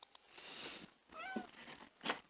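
A male cat, recently neutered, gives two or three short meows in a home, with a quiet gap between calls and the last one sharpest and loudest.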